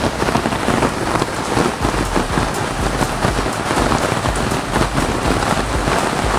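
Heavy rain pelts down steadily during a thunderstorm near Haridwar, a loud dense close hiss of drops on surfaces with low rumbles of distant thunder beneath, no voices.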